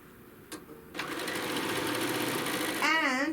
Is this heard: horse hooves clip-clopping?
no